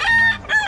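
A rooster crows among clucking chickens at a poultry sale, the brief call loud and close, rising and falling twice in under a second with no talk over it.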